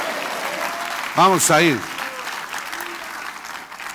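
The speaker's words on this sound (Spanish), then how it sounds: "Denle un aplauso al rey" A church congregation claps as applause continues beneath a loud voice that speaks briefly in the middle. The clapping sounds like a steady wash from a distance throughout.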